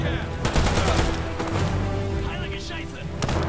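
Rapid gunfire from the War Mongrels video game, aimed at the player character, rattles in dense bursts over continuous loud game noise, with a voice talking over it.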